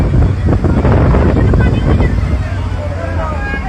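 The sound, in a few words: strong wind over the Meghna river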